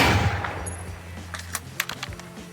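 Gunfire from a video game sandbox mode, with bullets ricocheting off surfaces: a burst of sharp shots followed by scattered metallic pings and cracks, fairly loud and close, with no talking.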